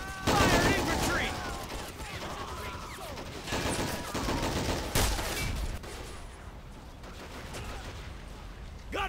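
Infantry gunfire in the video game Men of War Assault Squad during a 4v4 battle on the Lakeland map: dense bursts and volleys of rifle and machine-gun fire, loud and continuous, with sharp louder shots near the start and midway.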